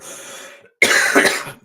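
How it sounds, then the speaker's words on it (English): A man coughs hard once, loud and close, after a brief lull, in a single harsh burst that fades out within about a second. "Apologies for the cough"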